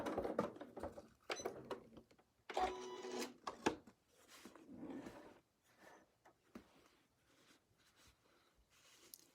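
A sewing machine stitches a quilt while using Westalee circle rulers, giving short, uneven bursts of needle chatter and a few louder runs before the stitching is tied off; close and fairly quiet, with no voices.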